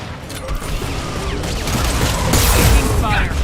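Heavy weapon fire in the video game Mass Effect 2, a loud sustained barrage with crashing booms and mechanical clatter that swells toward the end, with a voice speaking over the combat.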